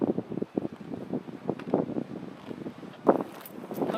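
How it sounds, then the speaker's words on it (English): Strong gusting wind buffets the microphone on a hiking trail in Fuerteventura, a loud, uneven roar with repeated surges and a sharp blast near the end. "The wind is just immense."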